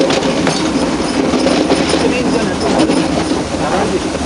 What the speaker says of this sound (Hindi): और पीछे से इंजन धक्का मार रहा है इस पूरी रेलगाड़ी को।